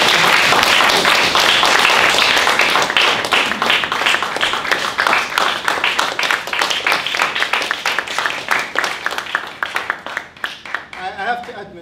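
Audience applause after an evaluation talk at a speech club session, dense and loud clapping that sustains for about ten seconds, then thins into scattered claps and fades at the end.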